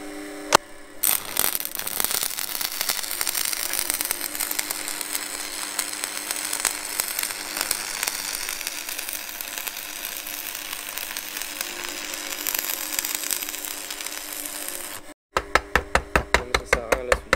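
An arc welder lays a full continuous bead on steel supports, giving a steady, close crackling sizzle that runs unbroken for about fifteen seconds, then stops abruptly. A few sharp knocks follow.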